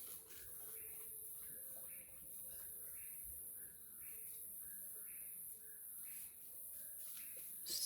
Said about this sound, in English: But listen to the whippoorwill.